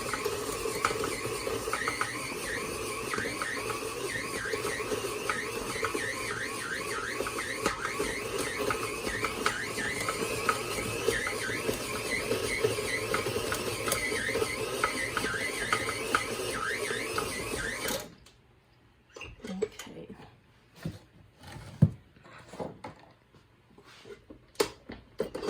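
An electric stand mixer kneading stiff homemade bagel dough with a rhythmic squeaky whir for about eighteen seconds, then a few scattered knocks and clatters once the mixer stops.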